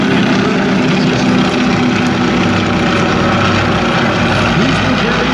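Boeing-Stearman propeller biplane from the 1920s flying an airshow demonstration, its steady droning engine roar loud and continuous throughout with no break.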